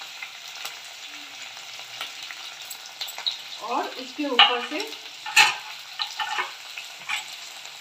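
Onion, garlic and bell pepper fry in a pan, giving a soft, low sizzle with a few stirring scrapes and clinks, while someone briefly talks over it.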